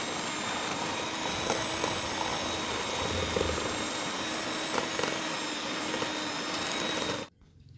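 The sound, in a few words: electric hand mixer beating egg whites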